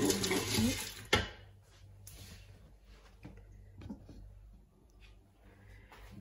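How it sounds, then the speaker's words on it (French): Water is poured into a Cookeo pot in a brief, fairly loud rushing splash at the start, followed by quieter clinks and small kitchen noises. "Là, on va mettre de l'eau."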